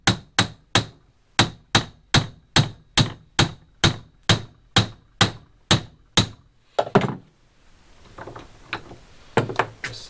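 A hammer strikes a U-joint cap on a Jeep driveshaft yoke, a Dana Spicer 1310 joint, in a fast, even run of about fifteen sharp metallic blows. The blows then stop and are followed by a few quieter clunks and handling noises nearby.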